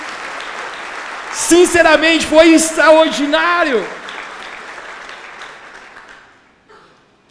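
A church congregation applauds its GPS small-group leaders with a broad wash of clapping that swells beneath someone speaking, then thins and fades away over several seconds.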